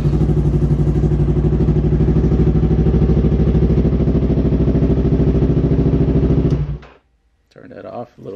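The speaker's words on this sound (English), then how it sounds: "let me start the bike before I actually put everything back together." A motorcycle engine idles loudly and steadily indoors for about seven seconds, then cuts off abruptly, leaving brief quiet followed by faint handling noise.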